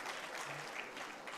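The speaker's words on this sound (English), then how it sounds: "Please, can we give him a round of applause?" Applause from an audience at a ministerial press briefing of the Ministry of Foreign Affairs and Interior, a faint, even patter of many hands clapping at a distance, steady for the whole moment.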